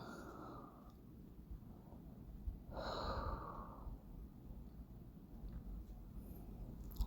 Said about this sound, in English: And breathe it out.